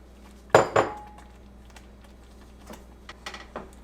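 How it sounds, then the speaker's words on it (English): A spoon clinks against a pot as jam with a cup of sugar is stirred over medium-low heat: two sharp close knocks, then softer scattered taps, with no talking. "Stir this consistently."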